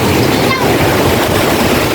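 Rough, muddy sea churns during a typhoon with strong wind, a constant loud roar of surf and gusts filling everything without pause, close to the microphone.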